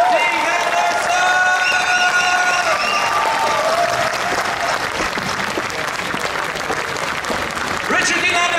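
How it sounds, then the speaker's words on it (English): A large convention crowd at a Comic Con Q&A in Holland bursts into loud, sustained applause with some cheering, steady and dense throughout, with an announcer's voice heard over the clapping. "Richard Dean Anderson, round of applause!"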